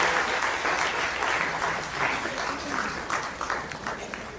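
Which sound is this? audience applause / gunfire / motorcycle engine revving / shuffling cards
audience applause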